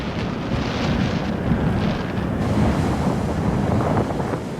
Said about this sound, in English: As the gusts built, I wondered if they were katabatic winds coming off the glacier.